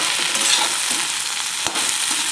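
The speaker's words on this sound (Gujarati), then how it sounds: "અને સરસ રીતે હલાવી લઈશું," Okra curry with a little salt is stirred in a pan, a continuous close sizzle with soft scraping and a small knock near the end, no voices.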